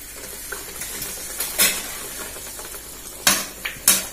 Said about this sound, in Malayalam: നമ്മുടെ എണ്ണ ഇവിടെ ചൂടായിട്ടുണ്ട്. മമ്മി ഇത് ഓരോന്നായിട്ട് ഇടാൻ പോവാട്ടാ.